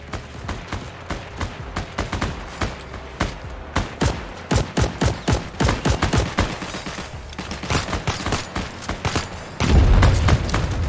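Gunfire in the WWII shooter Heroes & Generals: rapid, irregular bursts of sharp shots, some close and loud, others quicker and fainter, with a deep boom near the end.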